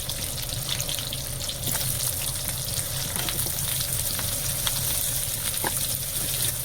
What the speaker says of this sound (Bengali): আলু পেঁয়াজ ভাজা ভাজা হয়ে গেছে